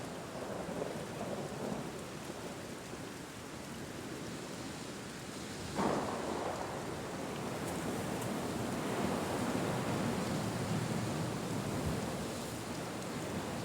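Steady heavy rain pours across the Ruaha savanna in the rainy season, with thunder rumbling and one sharp crack near the middle, a continuous broad hiss with no voices.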